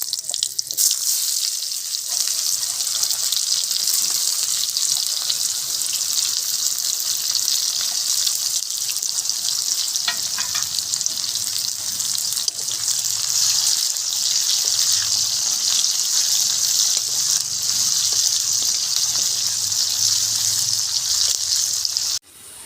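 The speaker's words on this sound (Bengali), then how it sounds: "এবার এই পেঁয়াজগুলো ভেজে নেব।" Sliced onions fry steadily in a pan for a mutton curry, a dense, unbroken sizzle that carries loudly the whole way through with no voices.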